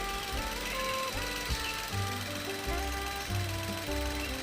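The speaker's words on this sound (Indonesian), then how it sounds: "Dan ini suara mesin hidup saat AC belum dihidupkan" A 2014 Datsun GO Panca engine idles with the air conditioning off, a steady, even mechanical hum and light rhythmic knocking, close by, with no talking.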